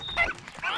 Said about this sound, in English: I can play with dog.